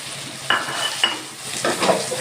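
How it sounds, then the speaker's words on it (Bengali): Chicken pieces going into a pan of fried spice paste for chicken and pea ghugni, with a steady sizzle under a few sharp scrapes of a spoon against the pan as it is stirred, close and fairly loud, no voices. "মশলা কষানো হয়ে গেছে আমি এবার দিয়ে দিচ্ছি চিকেন"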